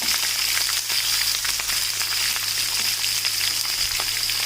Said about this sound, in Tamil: இது எல்லாத்தையும் சேர்த்துட்டு நல்லா இதை வதக்கி விட்டுறலாம்